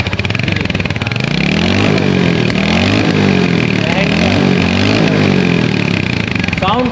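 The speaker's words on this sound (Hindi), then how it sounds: "साउंड क्वालिटी बहुत अच्छी है एग्जॉस्ट की।" A Royal Enfield Hunter 350 motorcycle runs loud and close, its exhaust throbbing steadily while the revs rise and fall in repeated swells for several seconds.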